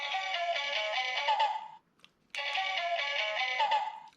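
Shinkenger Sushi Changer toy phone from Samurai Sentai Shinkenger playing its electronic ringtone, a bright melodic tune heard twice in close succession with a short gap and a click between, clear and alone.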